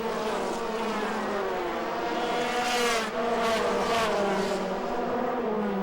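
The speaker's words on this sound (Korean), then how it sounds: "시속 300km로 달리는 경주형 차를 보며 속도감을 만끽하는 사람들" Race cars at an international auto racing event in Changwon scream past at high speed, their high engine whine rising and falling continuously as several cars pass in succession, loud and without talk.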